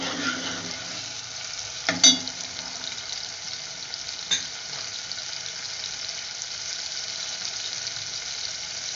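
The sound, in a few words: garlic and ginger frying in a pan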